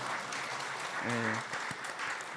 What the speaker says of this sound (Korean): 박수로도 한번 격려하시죠.